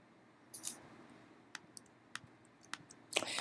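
Computer mouse clicks while setting up a business card file in design software, several sharp isolated clicks spaced irregularly at close range in a quiet room, with a quick double burst near the end.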